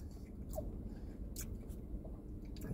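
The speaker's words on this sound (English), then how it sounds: "Bacon is nice and crunchy." Close, quiet chewing of a burger topped with crunchy bacon and egg, soft wet squishes and occasional crisp crunches over a few seconds, with no talking.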